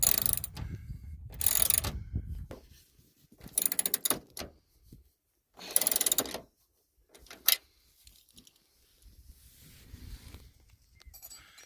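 Ratchet wrench tightening the mirror bolts on a first-generation Astro van, several bursts of rapid clicking separated by pauses, close and fairly loud, followed by a sharp clunk and quieter handling noises.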